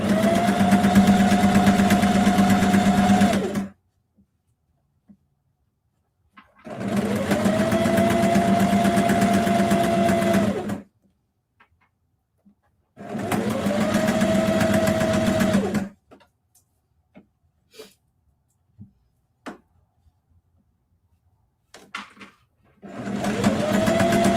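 A sewing machine stitches a fabric book cover in three loud, steady bursts of rapid whirring, each a few seconds long and separated by quiet pauses, with a short fourth burst starting at the end.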